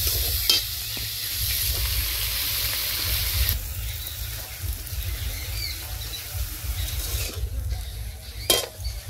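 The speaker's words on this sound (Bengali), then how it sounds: "লাউ শাক দিয়ে দিচ্ছি, লাউ শাক নেড়ে চেড়ে" Bottle gourd greens being stirred in a frying pan, a loud continuous sizzle with scraping turns of the spatula and a sharp clank near the end.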